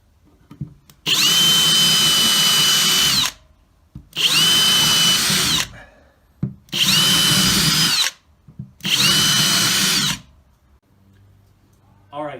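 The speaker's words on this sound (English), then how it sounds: "so we can drill down through without drilling into our" Four long bursts of a power drill boring through a wooden butcher block board, each lasting a couple of seconds with short quiet pauses between them, loud and close.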